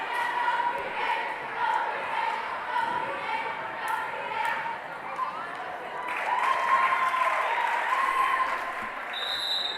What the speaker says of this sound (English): Got a little cheering going on.